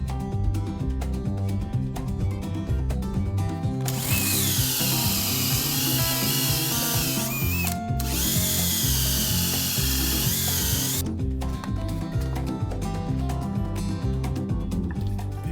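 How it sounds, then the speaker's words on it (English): A power drill whines loudly for a few seconds boring lug screw holes into a wooden sailboat, pausing briefly then running again, over a steady background of music. "Now all I'm going to do is drill the holes for the lug screws."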